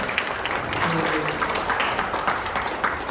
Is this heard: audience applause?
yes